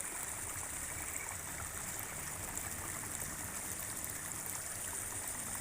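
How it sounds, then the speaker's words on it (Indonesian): Spring water flows into a fish pond, a steady, close hiss of running water, like a stream, continuous and unbroken, with no voices. "Tuh, ini aliran mata airnya guys ya."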